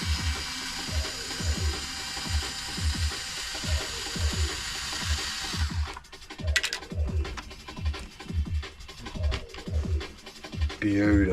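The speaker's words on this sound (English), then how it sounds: "Fast forward if you really don't want to see me undo all these screws." Screws are undone by hand on an MJX 10210 RC car during a teardown, giving close, repeated scratchy turning clicks in an uneven rhythm over a steady background hiss.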